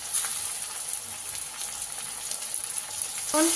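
Onion, garlic, ginger and green chilli frying in hot oil, a soft, even hiss of sizzling with faint stirring, close by, ending in a brief louder clatter.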